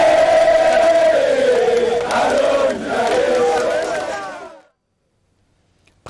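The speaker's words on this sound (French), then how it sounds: "le président de la République a eu droit à un bain de foule de quelques Congolais venus l'encourager" A large crowd of Congolese people cheers and shouts loudly around the president at Stade des Martyrs, a sustained roaring swell with rising voices that drops off abruptly into near silence.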